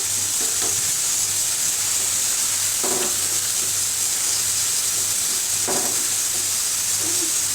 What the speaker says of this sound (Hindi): और इसके मैंने तड़का लगाया।